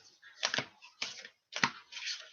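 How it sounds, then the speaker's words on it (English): A deck of playing cards is shuffled in quick riffling bursts, four short crisp flurries close by and fairly quiet, separated by brief pauses. "I'll shuffle one more time."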